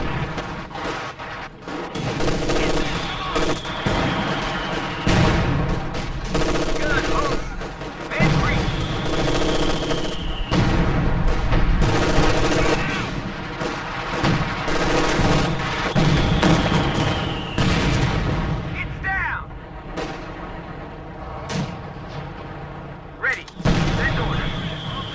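Heavy battlefield gunfire in Company of Heroes 2, a sustained, loud fusillade of machine gun bursts and booming shots rolling on without pause, with voiced unit callouts mixed in.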